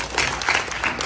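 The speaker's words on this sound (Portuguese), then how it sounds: "Palmas para Marco Aurélio." A short burst of steady audience applause honors Marco Aurélio at a film event, dense and continuous clapping from a crowd with no voices standing out.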